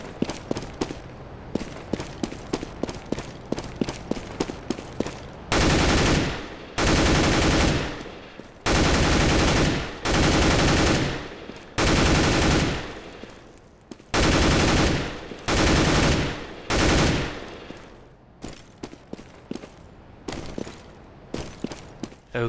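Counter-Strike: Global Offensive gameplay with loud bursts of automatic rifle fire in several long volleys, separated by quick rhythmic footsteps of running, close and alone without talk.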